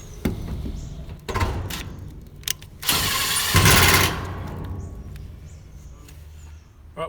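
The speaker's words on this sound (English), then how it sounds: "I'm using this flat screw with a self-drilling point on this section" A self-drilling flat-head screw is driven into a decorative metal fence panel section, heard as one loud whirring burst of about a second, with scattered clicks and handling knocks before and after.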